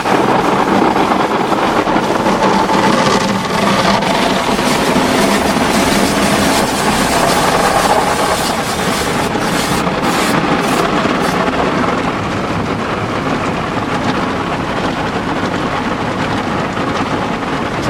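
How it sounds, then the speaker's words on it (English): A D&S Odyssey car wash panel blaster sprays a car at Crown Carwash, a loud, steady, broadband hiss and roar of high-pressure water that runs continuously throughout without pause. "The panel blaster right now."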